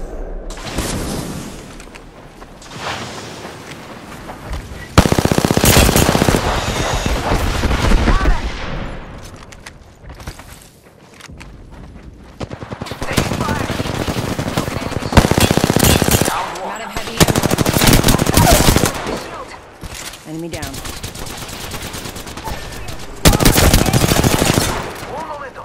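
Automatic weapon fire in the video game Apex Legends: long loud bursts of rapid gunfire alternate with quieter gaps, with repeated volleys up close over several seconds.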